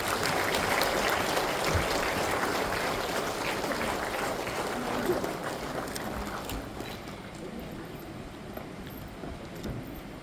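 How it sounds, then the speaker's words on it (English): An audience at a government event in New Shillong, Meghalaya applauds to welcome guests: dense, loud clapping that gradually thins and fades over about ten seconds. "Let us welcome them with a resounding sound of applause."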